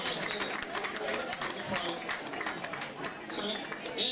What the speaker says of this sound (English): A round of applause, brothers. Well done.